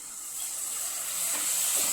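A spoonful or two of water hits finely chopped jaggery melting in a hot pan for sesame-jaggery squares, giving a bright steamy hiss and sizzle that builds slightly over two seconds, with no voices.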